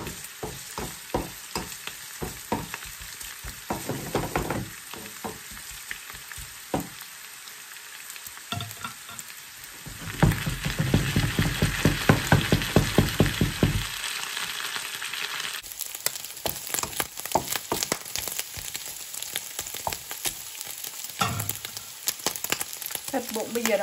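Pork belly sizzling and crackling in a hot pan, a dense continuous fry with popping spatter and occasional scraping stirs, close and loud throughout with no talk.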